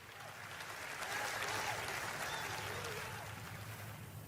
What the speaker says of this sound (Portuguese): pode glorificar ao Senhor com palmas mesmo